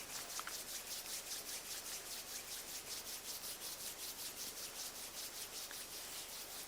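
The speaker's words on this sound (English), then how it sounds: "rub the palms of your hands gently against each other" Palms of the hands rub gently together at chest level in a steady back-and-forth rhythm, a soft, close, dry whooshing that repeats evenly with no talk over it.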